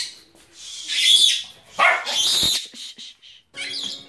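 A small dog makes several high, breathy yelps and whines in short bursts, close by, with pauses between.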